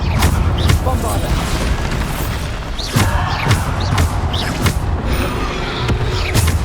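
Repeated Bombarda spell explosions in Hogwarts Legacy, a string of loud booming blasts at irregular intervals over a busy combat soundscape, with a voice talking throughout.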